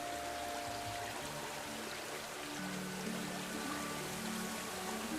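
A river flowing steadily nearby, a continuous broadband rush of water with low churning underneath, unbroken and fairly loud throughout with no voices.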